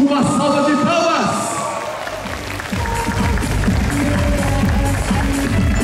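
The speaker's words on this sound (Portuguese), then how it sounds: "Gente, uma salva de palmas!" Enthusiastic crowd applause and cheering for a contestant at a cosplay contest awards ceremony, loud, dense clapping that fills the whole stretch with a few whoops on top.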